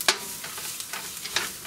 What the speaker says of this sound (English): The sizzle is starting to calm down, so you know that your pan is getting a little cooler.